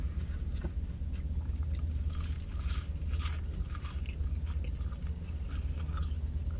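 Crispy fries being bitten and chewed up close, a steady run of soft crunches and mouth sounds over a low continuous hum, with no talking.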